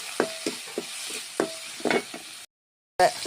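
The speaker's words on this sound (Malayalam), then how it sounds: "ഞാൻ ചതച്ച് വെച്ചിരിക്കുന്ന ഈ ഉള്ളി ഇതിലേക്കിടാണ്" Crushed shallots go into hot oil with popped mustard seeds for a tamarind curry, bringing a close sizzle and repeated spoon-scrape stirring strokes, with a short silent break before the frying resumes.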